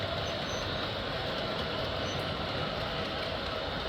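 An O scale model train rumbles steadily along the layout track, a continuous dense mechanical roar with faint clicking on top.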